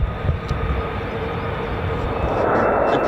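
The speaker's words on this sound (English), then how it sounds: "F-35 behind the trees there now." An F-35 fighter jet flying past near a Royal Air Force base, a broad, loud roar that swells toward the end, heard from outdoors.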